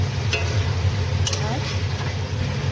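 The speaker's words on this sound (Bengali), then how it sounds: "এবার আমি মাংসটাকে, মাংসের জলটাকে শুকিয়ে নেব ভেজে ভেজে" Chicken pieces fry uncovered in a pan with spices while their water cooks off, giving a continuous loud sizzle with a low steady hum beneath and a couple of brief sharp utensil clicks.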